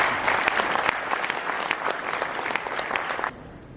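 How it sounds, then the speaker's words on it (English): Participants at a United Nations INSARAG Asia Pacific earthquake response exercise clap for themselves: dense, lively group applause with sharp individual claps, sustained for a few seconds before cutting off abruptly. "So those who put in the hard work, they can clap for themselves."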